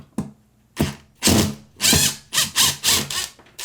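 A power drill backs drywall screws out of a baseboard heat cover in a series of short close whirring bursts, each stopping abruptly, with the later bursts louder and grinding.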